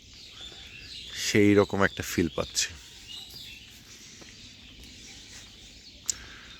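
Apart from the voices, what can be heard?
birds chirping in a foggy Bangladeshi village morning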